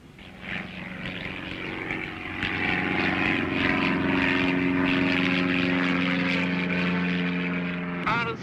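A propeller airplane drones steadily nearby, its engine note building and holding loud and even before a brief rustle near the end.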